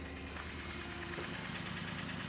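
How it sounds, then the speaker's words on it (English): A BMW E39 M5 engine idles steadily with a light, rapid valve tick running through the low rumble, heard up close at the front of the engine with no talking. "Little tick is probably from the valves."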